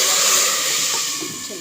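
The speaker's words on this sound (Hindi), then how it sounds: "तड़का इसमें डालते हैं।" Hot tadka is poured into a pot of mash dal and palak and sizzles loudly up close, a steady broad hiss that fades slightly.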